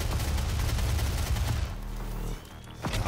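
Chain gun firing in Doom SnapMap, a dense, loud burst of rapid gunfire that runs steadily for about a second and a half, then drops to a lower rumbling tail with a brief crack near the end.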